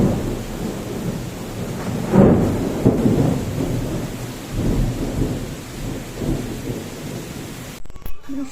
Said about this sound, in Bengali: ভালোই বৃষ্টি হচ্ছে, চারিদিক পুরো সাদা হয়ে গেছে, এত বৃষ্টি হচ্ছে।